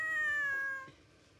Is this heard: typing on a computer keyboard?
no